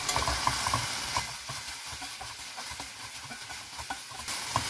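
Cooked tomatoes with onion stirred after a pinch of turmeric goes in, a spoon scraping and clacking against the pan over a low continuous sizzle, with irregular knocks throughout.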